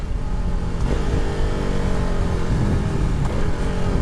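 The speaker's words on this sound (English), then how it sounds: "Alright, so I'm on a KTM RC390." A KTM RC390 sport motorcycle with a 373cc single-cylinder engine runs under way, its loud, buzzy exhaust drone close and steady with slight rises in pitch as it pulls.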